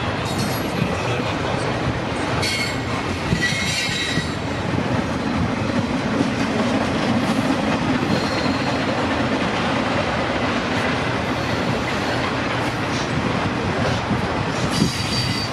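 A CPKC freight train passing steadily on a windy day, including a boxcar, with a continuous loud rumble of wheels, faint clicking and occasional squeal, heard alone without voices.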